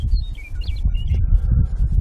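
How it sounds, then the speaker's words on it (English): An outdoor songbird gives bright, high chirping phrases over a loud low rumble of wind or traffic, the calls moderately close and repeated in short bursts. "been a bird singing over here"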